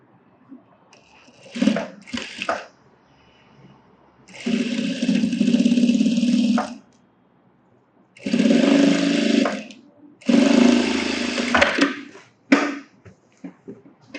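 A sewing machine stitching a blouse, running in several separate bursts of steady whirring with quiet gaps and handling noise between them.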